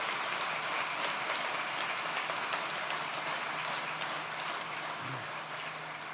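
Steady, even applause from a large audience at a state police academy graduation ceremony, a continuous wash of clapping heard at a modest distance with no speech over it.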